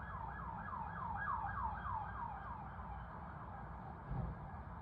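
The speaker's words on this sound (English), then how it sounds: "Excuse the siren, I'm gonna let it pass." An emergency vehicle siren wails in a repeating rising-falling cycle, faint and distant under low road rumble, the cycles growing slightly then fading as it passes by.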